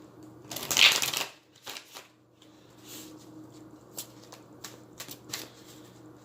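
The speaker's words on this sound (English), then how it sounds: "So let me shuffle here." Santa Muerte tarot cards are shuffled by hand, opening with one loud riffling burst followed by softer, scattered taps and slides of the cards in a quiet room.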